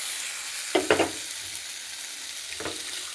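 Black and yellow mustard seeds and green chillies hit hot oil in a pan for a Bengali fish curry, giving a steady sizzle broken by two quick crackling bursts and then a third.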